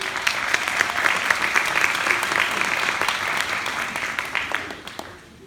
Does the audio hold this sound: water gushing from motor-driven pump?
no